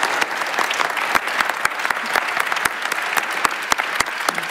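Audience applause after a talk at a Norwegian panel event on design and architecture in healthcare, steady dense clapping from a sizeable crowd with sharp individual claps standing out, loud and close throughout, no voices.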